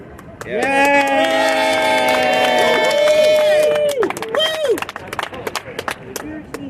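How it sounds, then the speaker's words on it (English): A crowd at an outdoor evening get-out-the-vote rally on a New York City street corner claps and cheers, a sustained wash of applause under loud ringing horn-like tones, then fading into scattered claps and voices. "Let's clap."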